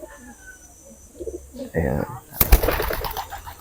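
Racing pigeon cooing softly in short low murmurs, followed by a louder flurry of wing flaps and rustling, with a voice speaking briefly nearby.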